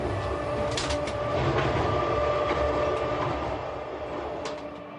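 A Euskotren regional train running on the single-track section of the historic Bilbao–San Sebastián railway line in the Basque Country, a steady rumbling ride with wheel noise and faint rail clicks throughout, at moderate volume.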